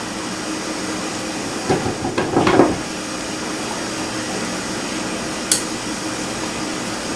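A blender whirs steadily as it mixes the milks for a tres leches gelatin, with a brief cluster of clanks and splashes partway through and a single sharp tick later on.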